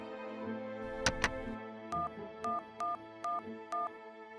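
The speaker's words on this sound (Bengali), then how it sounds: "দাঁড়ান, আমি করালি বাবুকে ফোন করছি।" A telephone call is placed in an animated Bangla cartoon. After a short clatter of sound effects, a ringback tone repeats in about five evenly spaced electronic pulses, clear and close, with no talking.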